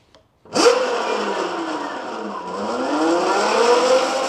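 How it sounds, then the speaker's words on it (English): An Anyland Rev Pro electric bike motor switches on at level 1 and runs with a loud, steady whine that dips and then climbs back up, heard up close with no talking. "I'm gonna go ahead and turn on the bike. Level 1."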